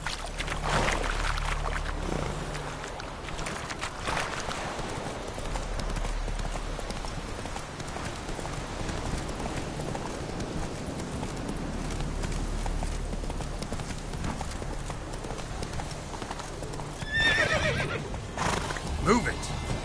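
Roach, the horse in The Witcher 3, gallops near Kaer Morhen with continuous close clip-clop hoofbeats, a whinny and splashing water near the end, while a voice speaks over it.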